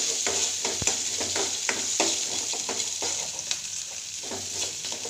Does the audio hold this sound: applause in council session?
no